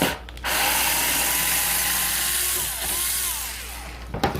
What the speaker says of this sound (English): so I can drill a hole.